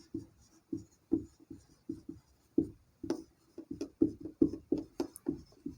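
Handwriting zeros during a class 9 maths lesson, a series of close scratchy strokes in irregular bursts, pausing and then quickening, with no talk.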